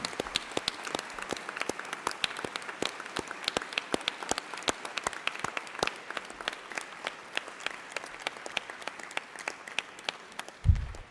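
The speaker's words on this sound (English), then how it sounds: "may we give them a tremendous round of applause," A school board meeting audience gives sustained applause for outstanding NJROTC students: a steady, moderately distant patter of many hands clapping, with no talk over it.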